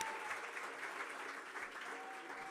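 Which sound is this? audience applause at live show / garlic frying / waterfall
audience applause at live show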